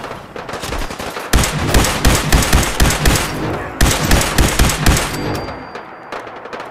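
Loud, rapid automatic gunfire from the PS4 video game Fallout 4 rattles in dense bursts, breaks off briefly, then resumes before trailing away.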